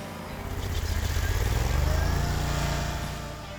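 A stump grinder's engine runs while its toothed wheel is swept back and forth and lowered into a tree stump, a pulsing motor drone that swells up and then fades away over a few seconds.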